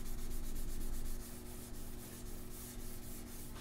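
Steady, close rubbing of 600 grit sandpaper over a guitar's lacquer finish, a continuous soft scratchy hiss that eases slightly after the first second, with no talk.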